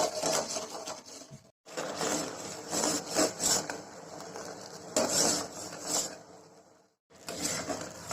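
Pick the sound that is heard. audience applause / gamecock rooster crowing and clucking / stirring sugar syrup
stirring sugar syrup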